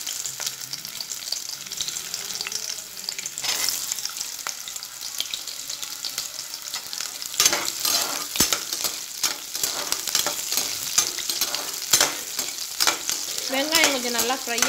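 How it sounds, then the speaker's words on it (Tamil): Onions frying in a pan for a mint chicken gravy, a close crackling sizzle broken by repeated scraping stirs that grow busier and louder in the second half. "வெங்காயம் கொஞ்சம் நல்லா ஃப்ரை ஆகட்டும்."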